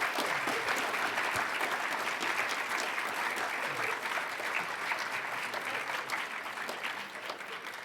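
An audience applauding to welcome author Diane Wilson at a reading event: steady, dense clapping from a sizeable crowd that holds for several seconds and begins to thin slightly at the end.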